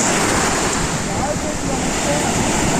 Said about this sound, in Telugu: సముద్రం